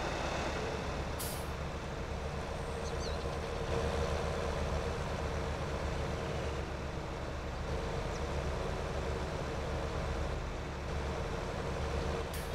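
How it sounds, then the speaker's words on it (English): A tractor engine idles in Farming Simulator 19, a low, even drone that holds steady for the whole stretch with no voices over it. "I left the tractor running."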